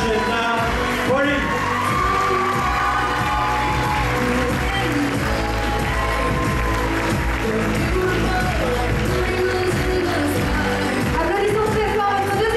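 A crowd cheers and applauds for the second runner-up at a pageant, with loud steady clapping and whoops continuing throughout over music and a voice on a microphone.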